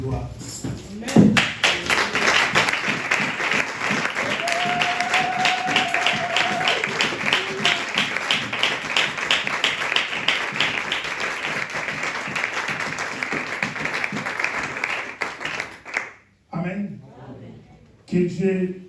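A church congregation applauds to acclaim the Lord, with loud, sustained rhythmic clapping over several seconds that fades near the end, while a voice speaks over it.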